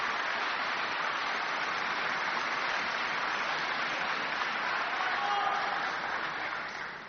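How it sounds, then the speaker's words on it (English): Sustained applause from a large audience at a political speech, a dense, even wash of clapping that stays loud throughout and tapers slightly at the very end, with no voices. "Applause"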